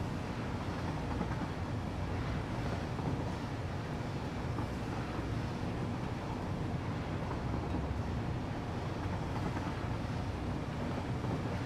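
A steady, low rumbling train ride in the video game Satisfactory, a continuous muffled rolling drone with no pauses and no talking.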